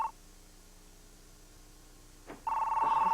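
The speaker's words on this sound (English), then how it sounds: "we don't have to answer the phone" A telephone rings, with a short ring burst at the start and another loud ring beginning near the end after a quiet gap.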